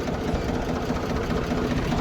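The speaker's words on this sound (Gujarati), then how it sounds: "હલર ચાલુ છે" A tractor-driven threshing machine running steadily, a loud, rapid mechanical rattle over a low engine drone that holds constant throughout with no pauses.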